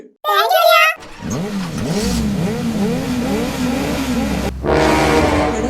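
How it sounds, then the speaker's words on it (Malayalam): A motorbike engine drones and revs in rising and falling waves, as if approaching, while voices talk at the start and end. "ഒരു ബൈക്കിന്റെ ശബ്ദം കേട്ടടാ ആരോ ഇങ്ങോട്ട് വരുന്നുണ്ടെന്നാ തോന്നുന്നേ"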